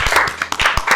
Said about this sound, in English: please, a round of applause for Michael.